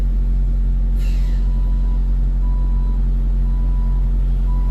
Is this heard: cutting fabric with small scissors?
no